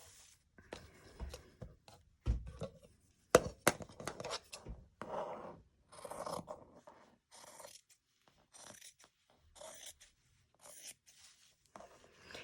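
Scissors cut through fabric for a no-sew ruffle, with close, irregular snips and rustling of cloth coming in short bursts and pauses.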